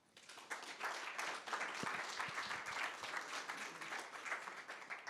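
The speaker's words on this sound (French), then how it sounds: "Bah, merci déjà, on peut l'applaudir," A conference audience at an SEO event in Paris breaks into sustained applause for a speaker, with many hands clapping densely and evenly for about five seconds at moderate distance.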